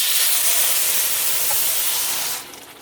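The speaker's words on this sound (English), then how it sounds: "I'm going to add some diced tomatoes here." Diced tomatoes hit a hot oiled pan for an Indian-style coconut, tomato and chickpea dish, giving a loud, steady steam-like sizzle and hiss that holds for over two seconds, then drops off sharply near the end.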